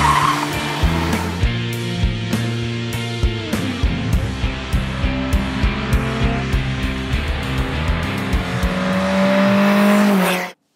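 A custom first-generation VW Golf Mk1 drives loudly, its engine roaring steadily near and close with rhythmic gear-change pulses and rising revs, ending in a sustained high-revving climb before cutting off.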